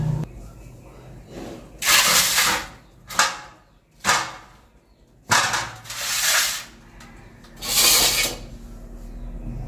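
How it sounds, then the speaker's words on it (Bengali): A knife cuts vegetables in a home kitchen, making several separate rasping, scraping strokes, each a second or so long, spaced a beat or two apart, with quiet room tone and faint voices between them. "আমি আগে সবজিগুলা কেটে নিই"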